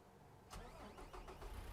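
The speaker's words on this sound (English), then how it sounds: "if I just go ahead and start the engine" A Peterbilt truck's engine cranks and catches in American Truck Simulator, a short burst of starter rattle and rumble rising abruptly, fairly quiet overall.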